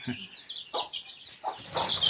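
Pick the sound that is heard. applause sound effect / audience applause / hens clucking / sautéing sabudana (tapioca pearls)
hens clucking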